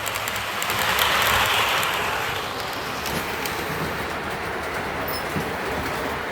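A model train rumbles along its track in a train room with a steady clattering roll, swelling briefly early on, then running on evenly.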